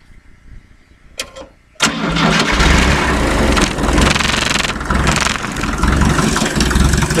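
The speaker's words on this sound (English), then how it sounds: "I'm gonna have to start her up here, get the glow system going a little bit" A Fiat 352c tractor's diesel engine cranks briefly after a couple of clicks, then catches and settles into a loud, steady idle that runs to the end.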